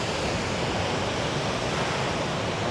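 Surf at My Khe Beach in Da Nang, Vietnam, a steady broadband wash of waves rolling in without a break, loud and close, with no voices over it.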